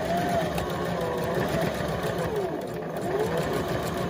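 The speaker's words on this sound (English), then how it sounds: "So I'm going to continue sewing just to show you." Sewing machine stitching fabric in a steady, continuous mechanical whir, close and constant throughout.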